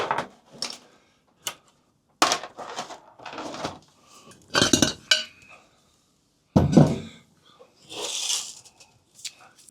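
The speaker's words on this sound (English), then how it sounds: "I'm going to need a pot to put my screws in" A pot is picked up and handled in a workshop to hold screws during a restoration, with irregular metallic clinks, knocks and rattles in separate bursts, close and fairly quiet.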